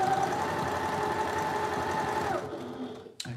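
A sewing machine stitches a quilt block with a fast, steady mechanical whir for over two seconds, then stops abruptly, leaving quiet with a brief click at the end.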